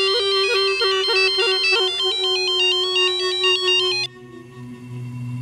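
A telephone ringtone plays a bright repeating melodic pattern for about four seconds, then cuts off abruptly, leaving a low background murmur.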